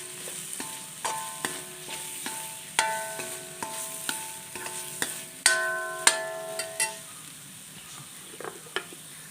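Ground spice paste for a chicken curry fries in a pan, with soft sizzling beneath repeated clinks and scrapes of a spoon stirring against the metal, close and fairly quiet, no talking.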